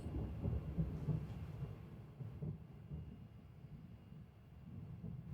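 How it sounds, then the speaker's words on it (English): Low rumbling thunder from a film's sound effects, a continuous deep roll that stays fairly steady, then eases slightly and swells again, with no talking over it. "I love the thunder. Love the sound effects here."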